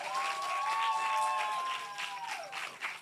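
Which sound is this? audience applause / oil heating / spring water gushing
audience applause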